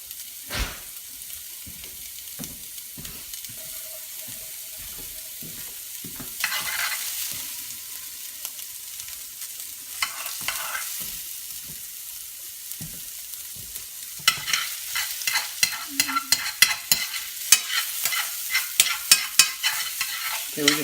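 Sausage browning for biscuits and gravy in a pan: soft crackling sizzle under sharp utensil scrapes and stirring knocks, quiet at first and then swelling into busier, louder frying with clattering stirs; no talk.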